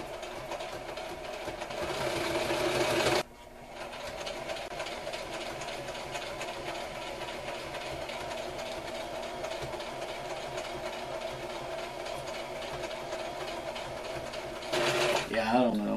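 A sewing machine stitches through heavy canvas for a haversack, running as a steady, close mechanical whir with louder, busier bursts at the start and near the end.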